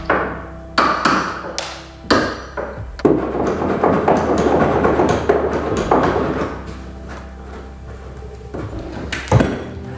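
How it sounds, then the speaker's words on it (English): A chisel knocks back glued wooden plugs on a door frame, giving a few sharp, close taps at irregular intervals with rough scraping and shaving in between. "You just take the chisel and knock them back"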